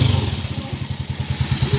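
Lowered motorcycle idling up close, its engine thumping in a fast, regular low pulse with slight mechanical clatter and small swells in level, no talk over it.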